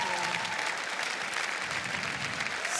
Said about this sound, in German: Hier kommt nochmal dein ganz großer Applaus.